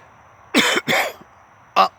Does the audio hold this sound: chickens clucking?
no